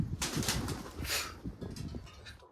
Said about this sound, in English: pigeons are flying